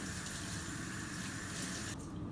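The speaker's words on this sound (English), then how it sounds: "And then you want to start rinsing it off." Tap water runs steadily into a sink while a makeup sponge is rinsed under it, giving a loud, constant rush that suddenly thins near the end as the flow changes.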